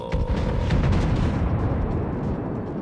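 A World of Warships South Carolina battleship main-gun salvo in the Solomon Islands map: a heavy, loud rumbling boom that opens sharply, then a long low roll that fades across nearly three seconds.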